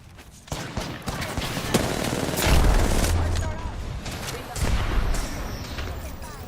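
Rapid video game gunfire from a ranked console shooter match, dense bursts of shots with a heavy low thump partway through, under a player's voice talking over the action.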